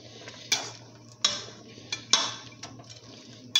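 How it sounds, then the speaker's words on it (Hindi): Metal spoon knocking and scraping around a pot as a kilo of haleem masala is stirred into frying chicken: a few sharp clinks spaced about a second apart over a low, steady background hum. "इसके अंदर जो हमने मसाला बनाया था हलीम का 1 किलो का वो डाल देना और इसको अच्छे तरीके से मिक्स करना"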